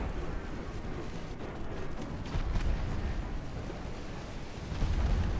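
Dense, continuous naval gunfire and artillery rumble from warships in the naval battle game Ultimate Admiral: Dreadnoughts, a steady roar of booms with heavier swells toward the end.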